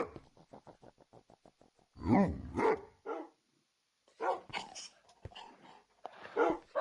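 A dog in Minecraft barks and whines in short, sharp bursts over a rapid, regular ticking, with pauses between the bursts and a voice talking near the end.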